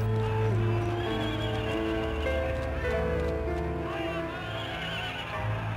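Horses pass through a city gate, loud whinnies and neighs over the clatter of hooves, with several animals calling close by in a busy, continuous scene.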